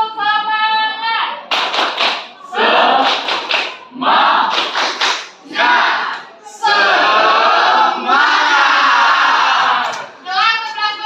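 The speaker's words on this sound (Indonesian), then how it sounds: "Tepuk semangat." High school class doing a rhythmic tepuk semangat spirit clap in a classroom: loud bursts of patterned group clapping alternating with a teacher's call and students shouting in unison.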